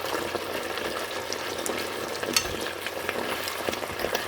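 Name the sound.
cooking beef and vegetables in a pan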